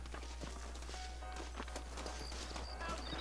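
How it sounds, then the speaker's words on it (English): Horse hooves clip-clop steadily in Red Dead Redemption, a quiet, even patter of footfalls over a constant low hum and busy game ambience. "Vem um cavalo?"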